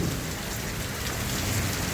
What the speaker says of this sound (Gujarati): કડાકાના ભડાકા શરૂ થઈ ગયા છે ફૂલ